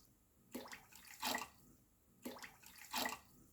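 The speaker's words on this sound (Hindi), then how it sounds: "अब इसमें मैं डाल दूंगी 5 कप पानी" Water poured onto sugar in a pan to make thin syrup for dahi rasgulla, two short splashing pours, fairly quiet and close.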